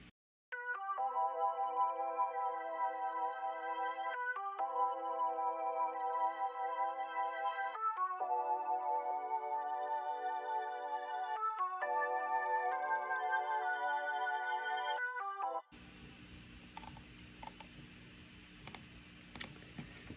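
Vintage-style organ with EQ and chorus plays a slow progression of sustained chords, clear and upfront, with brief gaps between chord changes. It cuts off after about fifteen seconds, leaving faint clicks and low hum.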